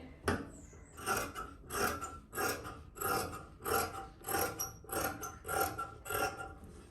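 Scissors cut through churidar sleeve fabric in a steady series of about ten raspy snips, each roughly half a second apart, close and moderately loud with no talking.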